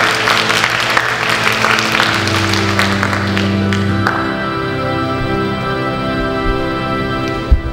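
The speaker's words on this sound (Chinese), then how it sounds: "我们以热烈的掌声欢迎我们的市长。" Applause at a school music concert greets the mayor, a busy burst of clapping from the audience that fades away as sustained musical tones take over.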